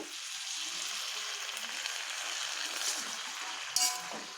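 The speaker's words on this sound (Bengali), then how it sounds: "এবার এটাকে আমি আরেকটুক্ষণ কষিয়ে নেব।" Pointed gourd and small mourala fish sautéing in a pan with a little water: an even, close sizzling hiss throughout, with a single metallic clink of a utensil near the end and no speech.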